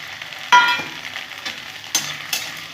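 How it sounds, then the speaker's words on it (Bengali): Cut okra fries in mustard oil with a faint steady sizzle, broken by a couple of sharp clatters from stirring against the pan, close and with no talking. "ভেন্ডিটা একটু ফ্রাই করে নেব।"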